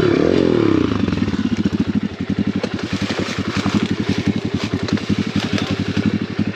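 An Apollo RFZ enduro dirt bike labors up a loose trail, its single-cylinder engine pulsing rapidly and loudly close by, with a rev dip early on before a steady throbbing pull.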